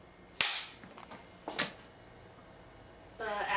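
A single sharp clap of a film slate clapperboard on a film set, crisp and close, followed by quieter handling noises and a brief murmur of voices near the end.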